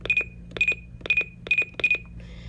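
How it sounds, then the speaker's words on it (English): A REECOM 1630 weather radio gives its invalid-button beep, five short electronic chirps in a quick even pattern, close and clear over a faint hum. "then it also has this invalid button beep"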